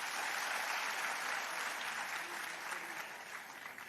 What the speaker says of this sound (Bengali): একটু জোরে হাততালি হোক তার